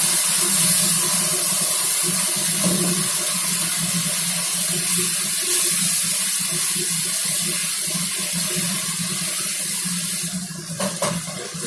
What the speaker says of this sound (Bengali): এবারে 1 কাপ গরম জল দেব।